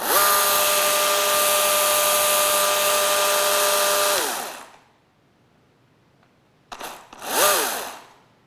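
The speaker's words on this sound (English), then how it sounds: "Here is a chainsaw." A chainsaw engine drones at a steady, buzzing pitch for several seconds, then cuts off. After a short silence it fires back with two quick revving bursts that rise and fall in pitch.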